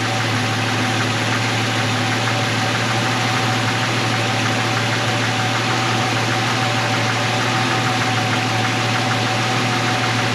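An AMC 258 engine in an M5 Studebaker truck idles with a constant deep hum and a steady even drone, loud and close, with no voices.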